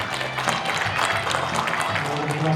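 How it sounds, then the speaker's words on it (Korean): Audience at a book concert giving sustained applause to welcome an author, a dense, even patter of clapping heard close with faint voices underneath. "여러분 소개 박수로 한번 청해 들어보실까요?"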